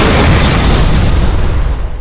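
A loud, close explosion in a Skibidi Toilet animated episode as a cameraman rigged with explosives blows up, a sustained broadband blast that roars for about two seconds and then slowly thins.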